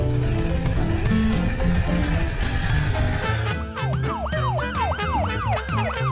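A loud ambulance siren wails in repeated rising-and-falling sweeps, starting partway through over dense street noise and traffic.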